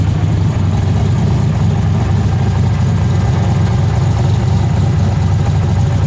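A 1986 Ford Mustang engine fitted with a carburetor modified for blow-through idles steadily and loudly up close, a continuous low rumble that stays even for the whole stretch with no talk.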